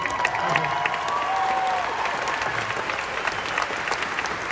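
Grand Ole Opry audience applauding a live country music debut, with dense, sustained clapping and a few scattered cheers from a large crowd, while a voice speaks briefly over it.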